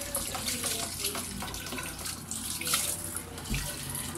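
Running tap water splashes over a greasy electric fan blade being washed, a steady close gush with uneven splattering, loud and continuous.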